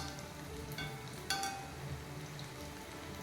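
Vegetable manchurian balls double fried in hot oil in a pan give a steady, close crackling sizzle, with a brief louder burst of spatter partway through and no voices.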